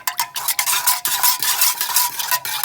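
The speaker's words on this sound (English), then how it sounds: "And then you want to stir that up" A utensil stirs dye and fragrance into melted candle wax in a container, giving repeated close scraping and swishing strokes in a steady rhythm, with no voices.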